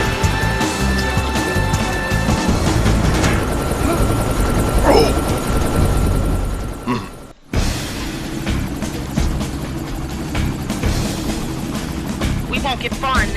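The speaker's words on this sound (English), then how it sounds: "helicopter." A helicopter in the XIII video game gives a loud, continuous rotor and engine drone that cuts out briefly midway and then resumes, with game voices faintly over it.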